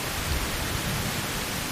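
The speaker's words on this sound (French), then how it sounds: "et surtout cette pluie qui continue à tomber" Steady rain falls in a dense, continuous hiss with no distinct drops or pauses, loud and even throughout.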